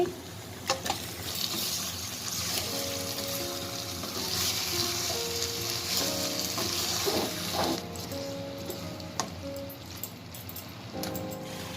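Marinated meat dropped into a hot pan in a home kitchen, giving a steady broad sizzle with stirring clatter and a few tonal clinks over about twelve seconds; no talking.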